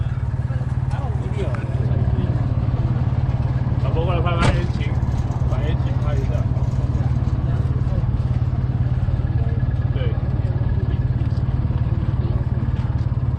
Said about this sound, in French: C'est le moteur Peugeot.